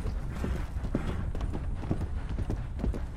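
Horse hooves clip-clopping in Red Dead Redemption 2 Online, a quick irregular run of soft muffled hoof strikes under a low rumbling background.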